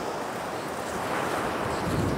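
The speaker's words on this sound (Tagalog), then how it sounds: "Ayan, manood na lang tayo ng alon." Sea waves washing onto Hornsea beach, a steady broad roar of surf mixed with gusting wind noise on the microphone, close and continuous with no voices.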